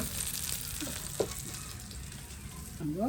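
Dried red chillies fry in hot oil in a pan for a chutney, giving a steady close sizzle with a few stirring scrapes, a brief clink near the middle and a short voice near the end.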